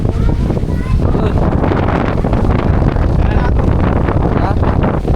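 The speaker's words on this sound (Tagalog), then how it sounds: "hindi marinig kasi lakas ng hangin" Strong wind buffets the microphone outdoors in Candelaria, a dense, continuous roar of low rumble and gusting noise that fills the whole stretch, with faint voices underneath.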